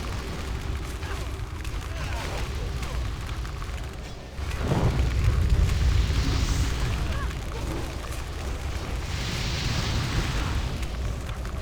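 Goblins hurl bombs during a Blackwing Lair raid in WoW Classic; a deep, heavy boom erupts midway through a dense wash of battle noise that stays loud afterward.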